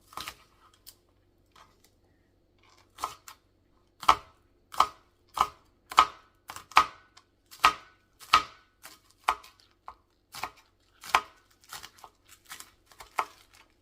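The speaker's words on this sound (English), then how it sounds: "what I'm doing now is I am chopping up some green onion" Knife chopping green onion on a cutting board: sharp, steady thwacks in a brisk rhythm after a few hesitant taps, close and clear with no talking.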